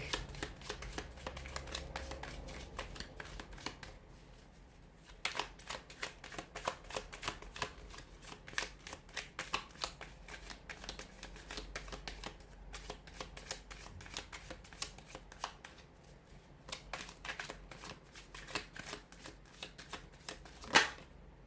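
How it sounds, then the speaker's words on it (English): Tarot cards are shuffled repeatedly up close, soft riffling and flicking in bursts with brief pauses, quiet and without speech. "give the cards a shuffle"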